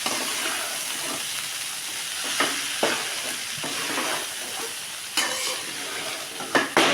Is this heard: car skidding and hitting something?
no